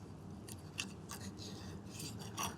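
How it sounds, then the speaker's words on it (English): Quiet, close snips of a blade cutting through the bottoms of duck gizzards on a kitchen board, several short crisp cuts spread irregularly over a faint background hum. "we're just going to cut the bottom of the gizzards off"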